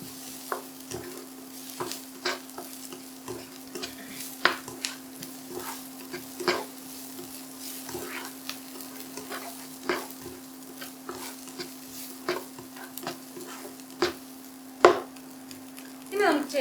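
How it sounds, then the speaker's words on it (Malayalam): Green and red chillies sizzle steadily in a hot pan while a spoon stirs them, with light scraping clicks and taps at an irregular rhythm, close and moderately quiet, for a Kerala-style white vegetable stew. "ഇതിനകത്തേക്ക് നമുക്ക് പച്ചമുളകും ചുമന്ന മുളകും ആഡ് ചെയ്ത് കൊടുക്കാം."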